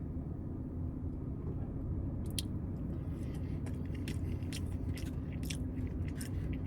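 Someone chews a mouthful of fine, shredded rice from a taco restaurant, soft close-up crunching and squishing over a steady background hum, with no talking.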